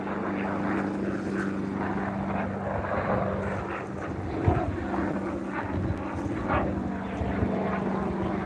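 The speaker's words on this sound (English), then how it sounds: "we see a helicopter right there" A helicopter passes over a windy Toronto waterfront near Billy Bishop Airport, its steady rotor and engine drone carrying at a distance through gusty wind noise.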